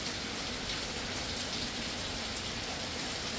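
A hurricane rainband sweeps through after Hurricane Helene, heavy rain roaring in a constant, broadband wash of drops hitting surfaces, steady and loud throughout with no speech.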